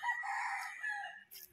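A rooster crows in a single clear call among a flock of circuit-bred gamefowl chickens, fairly close and loud, with a brief rustle at the end and no talking.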